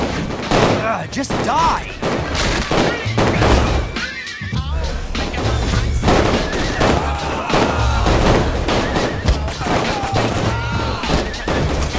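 Continuous gunfire while shooting enemies in Saints Row IV, dense overlapping shots and crashes with music and game noise throughout. A voice shouts over the chaos.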